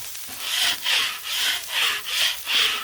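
Metal spatula scraping corn seasoning residue across a hot Blackstone griddle after cooking steak and corn on the cob, six rhythmic, close, raspy strokes in steady succession.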